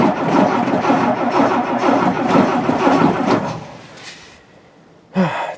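A car engine is started inside a shed: loud, rough broadband rumbling and cranking for about four seconds, which then dies away, followed after a pause by one short, sharp clunk.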